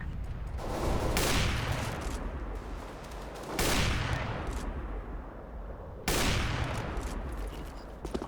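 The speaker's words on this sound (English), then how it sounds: "I'm throwing smoke. I'm throwing a flashbang. Flashbang." Bursts in the CS:GO video game, three loud sharp blasts that each decay into a long noisy tail, spaced a few seconds apart with no talk over them.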